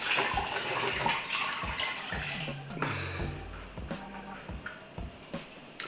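Running tap water rinses lemon juice off a kitchen grater, a steady close splashing stream with small metallic knocks and clinks as the grater is handled, no talking.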